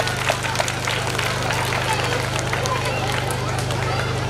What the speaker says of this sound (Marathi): तर त्यांच्यासाठी सुद्धा आपण जोरदार टाळ्या वाजूया.